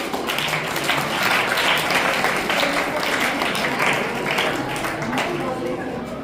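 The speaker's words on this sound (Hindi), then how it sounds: "तालियों के गड़गड़ाहट से इसका स्वागत है" Students and teachers at a school celebration clap to welcome a 10th-grade student speaker, giving a steady, moderately loud wash of applause with a faint murmur of voices mixed in.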